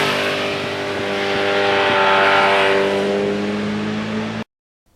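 A 1982 Suzuki GS1100E motorcycle runs steadily along bumpy back roads, its engine a loud, continuous harmonic drone that swells slightly mid-ride before cutting off abruptly near the end.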